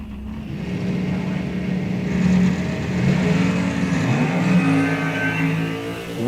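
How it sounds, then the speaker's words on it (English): Two drag race cars launching side by side at a bracket event, engines roaring loud and steady with rising revs as they pull away, a continuous close engine blare throughout. "Wheels up launch for both drivers."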